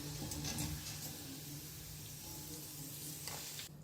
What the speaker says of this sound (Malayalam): കുറച്ച് കുറച്ചായിട്ട് ഫ്രൈ ചെയ്തെടുക്കണം